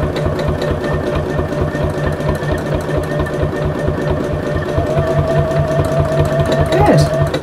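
A sewing machine does free-motion stitching around a fabric wall hanging, a rapid, even mechanical chatter that runs steadily up close, with a brief faint voice near the end.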